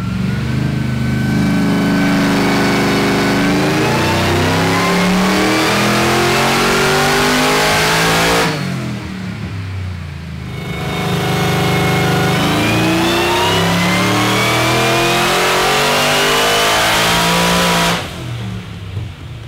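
A Harrop-supercharged LSA V8 on a hub dyno screams through two long full-throttle pulls, pitch climbing steadily each time, then dropping abruptly to a lower idle between and after, very loud and close.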